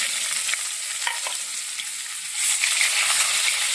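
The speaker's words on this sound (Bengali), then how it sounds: "এবারে আমি পেঁয়াজ কুচিটা দিয়ে দেবো।" Chopped onion sizzles in hot oil with whole spices for an egg malai curry: a continuous close frying hiss with light stirring scrapes, growing louder partway through.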